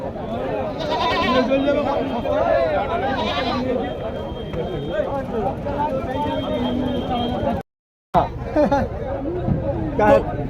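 Several goats bleat intermittently amid the chatter and bustle of a goat market in Uluberia, Howrah, with voices talking throughout and a brief dropout near the end.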